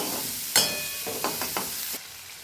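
Shallots and onions sauté in a pan for a yam curry, giving a steady, soft sizzle with a few sharp scraping clicks from stirring, close by and with no talking.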